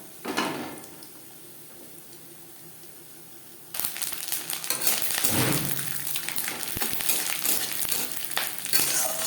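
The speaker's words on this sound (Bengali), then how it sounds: "নারকেল ভাজা হয়ে গেছে" Grated coconut frying in a pan for a vegetarian banana-flower dish. After a few quiet seconds a loud, steady sizzle starts and carries on with stirring and scraping against the pan.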